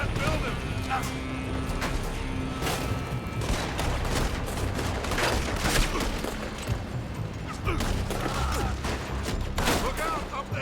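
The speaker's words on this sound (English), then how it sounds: "They're shooting from that building!" Scattered gunfire from a building in Red Dead Redemption 2, with shots cracking out in an irregular rhythm over a steady, busy backdrop of game noise and speech.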